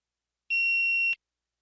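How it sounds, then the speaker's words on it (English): A single steady electronic test beep, clean and fairly loud, holds one pure tone for about two-thirds of a second and then stops, signaling the start of response preparation in a TOEFL iBT speaking exam recording. "You may begin to prepare your response after the beep."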